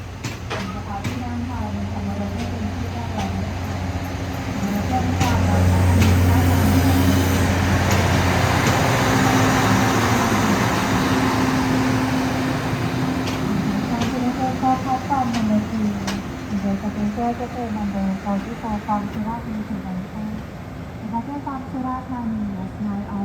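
SRT express train 84 from Trang to Bangkok pulls out of platform 1 at Surat Thani station, a low rumbling diesel drone building and fading with clanks, while someone talks over it throughout.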